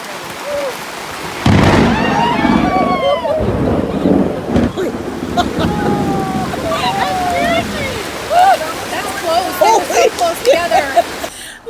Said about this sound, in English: We had one evening of rain, lightning, thunder, pouring down rain in sheets